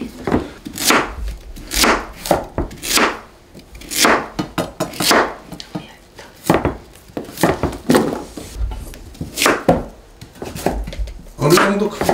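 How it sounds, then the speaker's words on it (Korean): A knife chops fish for Tongyeong bolak kimchi on a cutting board, with repeated heavy thuds in an uneven rhythm, close and loud, while voices talk between strokes. "어느 정도 크기로 썰어야 되나요?"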